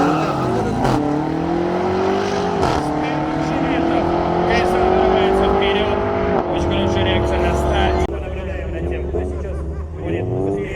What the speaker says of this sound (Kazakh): BMW X сериясындағы автокөлік екеуі жарысатын болады